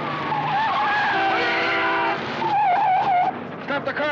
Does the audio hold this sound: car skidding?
yes